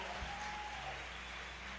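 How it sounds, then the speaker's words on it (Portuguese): An audience at a Catholic community gathering in Sacramento claps together in a dense, continuous burst of applause that fills the room with no voices on top. "Vamos aplaudir a comunidade pela iniciativa"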